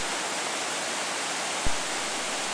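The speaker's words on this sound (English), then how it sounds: "the creek slowly makes its way down to the Salmon River" A mountain creek flows beside a trail in the Rockies on its way toward the Salmon River, giving a steady, broad rushing wash. A single soft low thump breaks in partway through.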